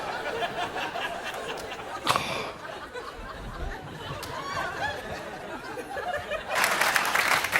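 Studio audience at a taping of the improv comedy show Whose Line Is It Anyway, with crowd chatter and scattered laughter building into a loud burst of applause near the end.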